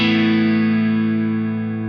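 A sustained distorted guitar chord through a tape saturation plugin with grit turned up rings out alone, thick and gritty, slowly fading over about two seconds.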